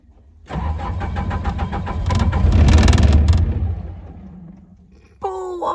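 A machine engine cranks over and catches, a rising rumbling roar that swells, then settles and fades to a low idle, ending in a short beep-like tone.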